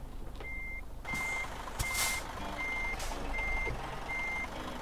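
Regular reversing beeps from a truck in Euro Truck Simulator 2, about six evenly spaced tones over a steady engine rumble, with bursts of air hiss between them.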